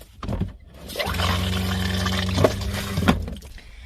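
Water poured into an RV waste tank, a steady close gushing pour lasting a couple of seconds with a hollow resonant tone, starting and stopping abruptly.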